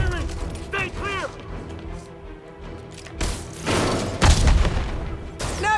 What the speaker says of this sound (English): Look out! Firing! Stay clear!